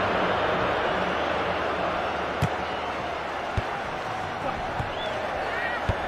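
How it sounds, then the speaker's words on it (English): A stadium crowd in a FIFA football video game roars as a steady, dense wash of noise, with a few sharp thuds and knocks standing out over the constant din. "Listen to the crowd."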